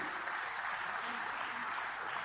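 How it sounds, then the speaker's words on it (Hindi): A packed hall in Indore applauds at a political event as Scindia leads Vijayvargiya onto the stage and seats him, a steady continuous wash of clapping with a voice talking over it. "विजयवर्गीय को मंच तक ले जाने और बैठाने के दौरान पूरा हॉल तालियों से गूंजता रहा।"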